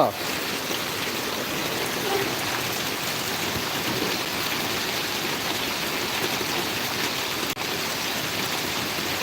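Heavy rain pours down in a constant, dense hiss, loud and unbroken throughout, with a voice faintly underneath.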